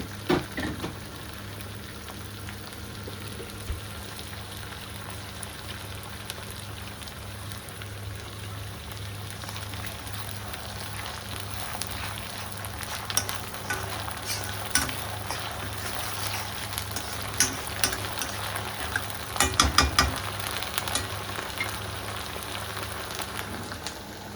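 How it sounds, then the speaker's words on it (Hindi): Ginger garlic paste sizzles steadily in hot oil in a home kitchen pan, a continuous soft crackling hiss with brief louder spatters near the end. "यहाँ डाल दिया अदरक लहसुन का पेस्ट"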